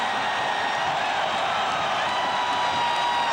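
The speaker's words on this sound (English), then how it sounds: "Listen to this crowd. They love their defense." A stadium crowd at the 1979 USC at LSU college football game roars for the LSU defense after an interception, a dense, sustained wall of cheering that stays loud throughout.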